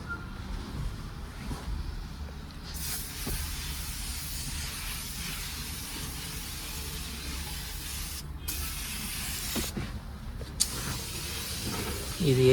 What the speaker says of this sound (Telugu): ఇది అయితే చాలా ఈజీగా వాడేయచ్చు ఫోన్ స్ప్రే.